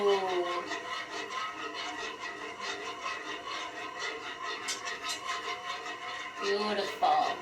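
A whisk scrapes steadily through a thick flour mixture being blended into milk in a pot for homemade mac and cheese, making a continuous close rasping, rubbing swish with rhythmic strokes throughout, with a brief vocal exclamation near the end.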